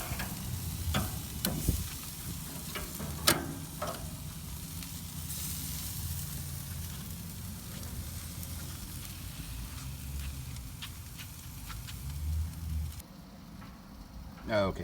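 Chicken tikka boti sizzling on a grill, a steady close crackle with occasional clicks and taps as pieces are turned, while someone talks over it.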